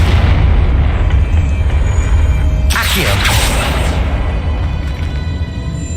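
A Confringo spell in the Hogwarts Legacy game erupts in a sudden bright blast midway, bursting over a constant heavy low rumble and fading quickly back into the drone.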